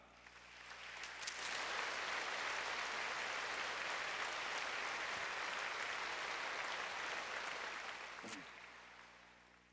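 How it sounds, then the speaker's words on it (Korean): A church congregation in Korea claps to welcome a missionary to the front, a dense, steady wash of applause that swells quickly, holds for several seconds, then tapers away near the end. "우리 김바울 선교사님 나오실 때 크게 박수로 환영해 주시기 바랍니다"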